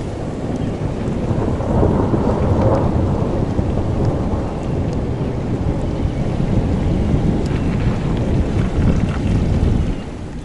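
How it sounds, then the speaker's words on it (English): Long rolling thunder rumbling continuously through a steady downpour of rain, deep and loud throughout, with rain pattering close by and no voices. "just rolling thunder sound for a while now. Longest thunder roll I ever heard."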